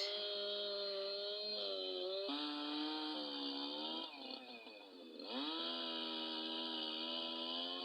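A chainsaw drones loudly and continuously, its engine pitch rising and dipping as it bites into wood, briefly easing before revving back up.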